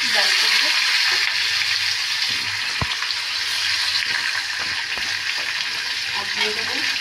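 Dried red chilies and chopped onion fry in hot oil with a steady, close sizzle, punctuated by a couple of sharp clicks of a utensil against the pan.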